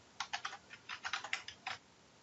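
Code being typed on a computer keyboard: quiet, crisp key clicks in two short bursts, soft and close with no voices.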